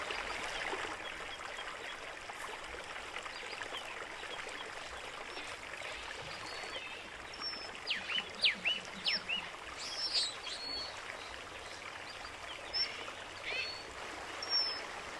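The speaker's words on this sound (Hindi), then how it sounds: "घाटी की तलहटी में मौजूद ये पानी 600 मीटर ऊंचे पहाड़ों से बहकर नीचे आता है।" Mountain stream water flowing at the foot of a valley below 600-metre hills at Lake Manyara, a steady soft trickle and rush with faint birdsong calling intermittently above it.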